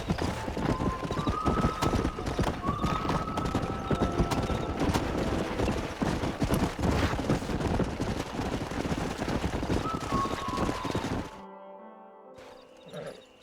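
Horse galloping in the video game Red Dead Redemption, a rapid, steady clip-clop of hooves up close with occasional whinnies and background music, running about eleven seconds before fading out.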